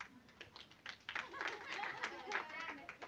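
A crowd claps together at a Christmas celebration in a village church gathering, a light, scattered patter of hands rising and falling over a few seconds with voices mixed in.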